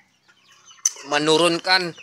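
Free-range village chickens cluck loudly and close by in a rural coop, with a short burst of bird calls. Someone talks at the start.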